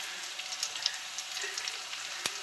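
Onion frying in a pan for a chicken masala, a soft steady sizzle with small crackling pops throughout and one sharper tick near the end.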